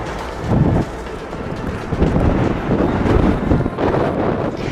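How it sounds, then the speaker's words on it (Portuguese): Strong mountain wind at Penitentes near Aconcagua buffets the microphone in loud, rumbling gusts that swell and ease continuously, with no voices. "Que vento!"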